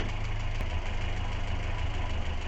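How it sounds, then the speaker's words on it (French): A car engine runs at a lowered idle speed with the air filter removed, a steady even drone with a fine rhythmic pulse, close and alone without talk. "on va retomber notre régime de ralenti d'un tour en quart"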